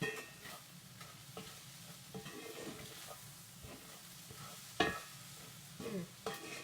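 Rice with vegetables cooking in a pan for lemon balsamic veggie rice, a soft steady sizzle broken by a few louder scraping stirs, close and without talk.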